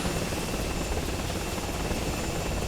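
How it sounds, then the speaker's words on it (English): Steady, dense helicopter rotor and engine drone during a ride in the retro shooter game Dagger Directive, continuous and loud with no voices. "I sure do love these immersive helicopter rides to your destination"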